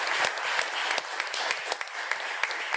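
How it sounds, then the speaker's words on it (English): At a EuroGEO workshop on in situ Earth observation data, an audience applauds the panelists with dense, steady clapping from many hands, the individual claps crisp and close. "a big round of applause to all the panelists"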